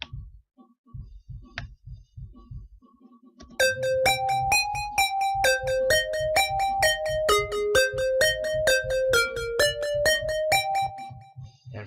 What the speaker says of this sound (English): And for that I was using GMS, and the preset was lead 3.